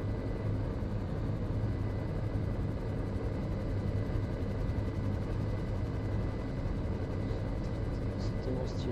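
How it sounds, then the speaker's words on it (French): A military transport plane takes off in the GTA 5 video game, its engines giving a loud, unbroken roar and rumble that stays steady from start to finish. "Vous voulez regarder un décollage d'un avion de transport de l'armée d'air?"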